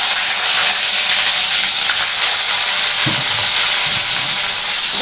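Chopped tomatoes hit hot oil tempered with cumin seeds and fry with a loud, continuous, close sizzle and hiss that stays steady throughout, with no voices.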